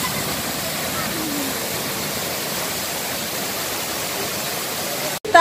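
A waterfall near a campsite at Cibodas pours steadily in a broad, even rush of water, close and constant, breaking off with a brief dropout just before the end.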